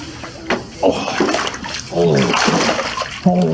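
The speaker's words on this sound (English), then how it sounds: "So I bathe outside this trough currently because I cannot physically bathe in a sit-down bathtub or stand-up shower area." A large man washing himself with water in an outdoor trough, with close splashing and sloshing broken by short bursts of talk.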